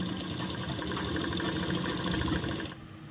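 A sewing machine stitching a seam on a ladies' shirt, its motor running in a steady, rapid, rattling whir for nearly three seconds before cutting off abruptly.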